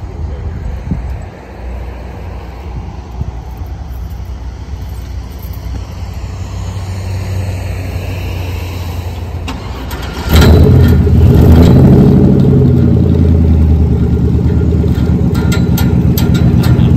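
A car engine turns over and catches around the ten-second mark, then runs loud and steady with a rough idle after a quieter stretch of background noise, at a rod run car show in Pigeon Forge.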